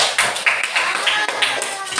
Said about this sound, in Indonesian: Berarti tepuk tangan buat semua